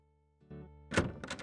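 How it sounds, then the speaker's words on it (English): An inn door in the Quest for Glory 4 game as someone inside lifts the bar and unlocks the bolts: a low scraping slide, then two loud, close metallic clunks in quick succession. "you hear someone removing the bar and unlocking the bolts on the other side of the door."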